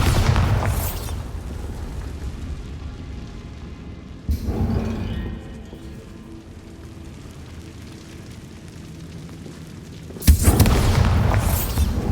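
Spell explosions from Confringo and Bombarda blasts in Hogwarts Legacy: two loud booming bursts, the first near the middle and a second, sharper one near the end, each followed by a rumbling roar under a steady game backdrop.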